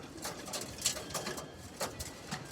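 Pigeons feed nearby with soft cooing and faint pecking and rustling, quiet intermittent sounds spread across a calm background.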